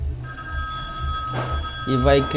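A telephone rings with steady tonal bursts close by, while a person talks over it in French.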